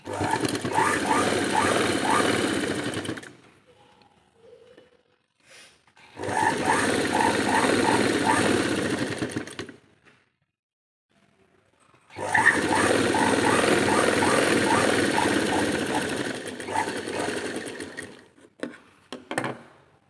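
A sewing machine stitching a blouse runs in three bursts of rapid, steady mechanical whirring, each several seconds long, separated by pauses with faint handling noises.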